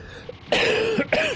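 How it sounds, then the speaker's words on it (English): A single harsh cough from a man recovering from a lingering illness, loud and close, breaking into two rough bursts with a short gap between them. "That turned into a cough there."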